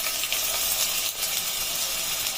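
Ginger-garlic paste frying in hot oil on a stove for a chicken fry, a steady bright sizzle that stays even and fairly loud throughout, with no talk.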